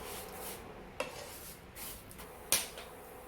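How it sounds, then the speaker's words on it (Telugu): Semiya (vermicelli) being fried in a pan with soft, quiet stirring and scraping, plus two sharp clinks of the utensil against the pan. "ఈ సేమియాని ఎర్రని రంగు వచ్చేంత వరకు ఫ్రై చేసుకోవాలి."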